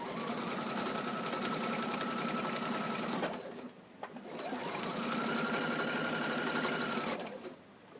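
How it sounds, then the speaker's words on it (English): A sewing machine with a quarter-inch foot stitches through layers and a zipper in two loud, steady runs of rapid whirring, each a few seconds long, separated by a short pause. "I'm going to sew all the layers together using my 1/4 inch foot"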